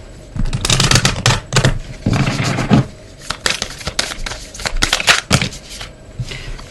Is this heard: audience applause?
no